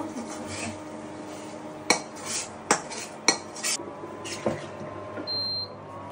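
A tempered spice mixture (bagar) is poured into a cooking pot of Rajshahi-style kala bhuna beef, with several sharp metallic clinks and clatters of utensils against the pot over a low steady kitchen background.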